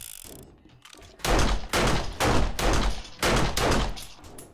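Gunshots in the video game 7 Days To Die, Darkness Falls mod on a custom map: about five loud, close bursts of rapid fire in quick succession, each lasting roughly half a second.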